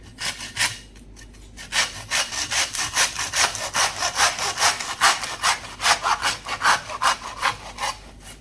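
A saw cuts through a whole lamb carcass during butchering, a steady back-and-forth rasping of close, loud strokes in a regular rhythm after a brief pause near the start.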